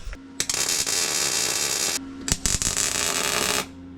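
An arc welder buzzes steadily as a brace is welded onto a drift car's roll cage, loud and close, in two long bursts broken by brief pauses and short crackles.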